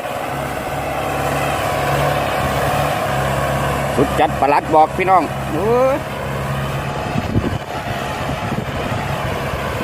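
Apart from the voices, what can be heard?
Tractor four-cylinder turbo engine running while plowing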